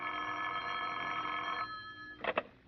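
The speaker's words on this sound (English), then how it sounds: "The phone call came at 9:30" A telephone rings in a classic radio drama: a steady bright trilling bell rings for about a second and a half and stops, then two short rings follow, with no one speaking.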